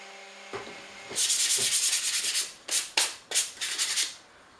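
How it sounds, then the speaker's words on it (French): Sandpaper rubbing over a wooden painting stand: close, raspy back-and-forth sanding strokes, one long continuous pass followed by several shorter bursts. "On sable jusqu'à temps que ce soit à notre goût."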